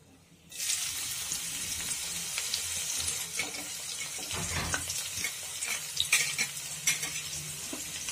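Chopped onions drop into hot oil with golden-browned cumin seeds in a pan, setting off a sudden loud sizzle that holds steady and close, with a few crackles and stirring scrapes.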